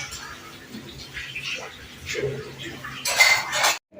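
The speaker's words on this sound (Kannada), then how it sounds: "ಅದಕ್ಕೆ ನಮ್ಮ ಮಾಮ ಎಲ್ಲ ಹೆಲ್ಪ್ ಮಾಡ್ಕೊಡ್ತಿದ್ದಾರೆ ಪಾತ್ರೆ ತೊಳೆದು" Dishes clink and clatter softly while being washed, ending in a brief louder rattle of pots and plates, with faint voices nearby.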